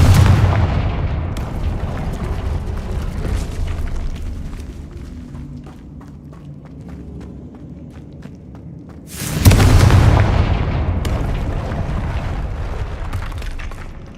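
Confringo fire-spell blasts in the Hogwarts Legacy video game, heavy booming explosions at the start and a second loud burst near the middle, each with a long rumbling tail and scattered crackling hits between them, with no voices.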